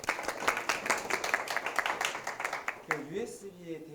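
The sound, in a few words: applause in a lecture class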